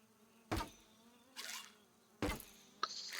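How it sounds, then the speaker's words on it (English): Bees in the video game Grounded buzz in several short bursts that swell and fade, close but faint, with no talk. "Gotta be careful not to hit the bees."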